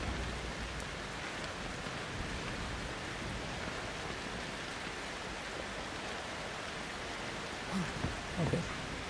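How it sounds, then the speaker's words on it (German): Steady rain hisses down in the Outlast 2 video game as a soft, even wash of noise that runs throughout, with a few faint low thumps near the end. "es regnet immer noch Blut"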